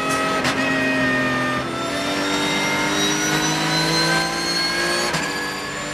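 A Porsche race car, number 35, races on the Dijon-Prenois circuit, a loud sustained high-revving engine howl with climbing pitch and brief gear-change breaks, close and continuous with no talking.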